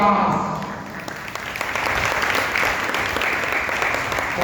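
An audience at a Hindi religious discourse in Balaghat bursts into applause, a dense, sustained clapping that carries evenly throughout.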